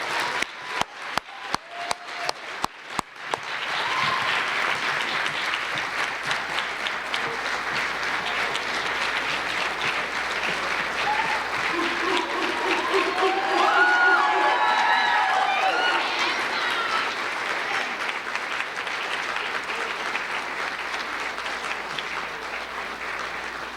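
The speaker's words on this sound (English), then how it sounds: "join me in another round of applause for our Dreamer, Visionaries, and Honorees" Applause at an awards ceremony for dreamers, visionaries and honorees opens with a few loud, sharp claps, then swells into sustained clapping and cheering from a large audience, with some vocal whoops and crowd noise mixed in.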